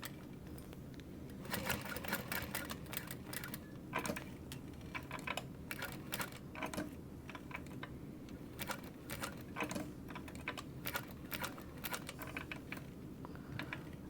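A sewing machine top-stitches a fabric bag with a slow, steady run of rapid needle ticks over a low motor hum, close and quiet, with no talking.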